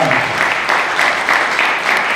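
An audience applauds at an evening support event, a dense and steady wash of clapping from a room full of people, loud and sustained across the whole stretch with no pauses.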